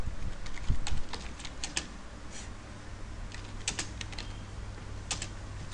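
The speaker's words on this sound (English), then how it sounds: "can just start typing" Keyboard typing on a computer, a fairly quiet run of irregular key clicks in short bursts over a low steady background hum, with no voices.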